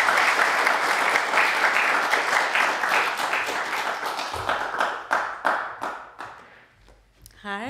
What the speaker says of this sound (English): if you can give a round of applause for Doneil Brown, AKA Blackbird.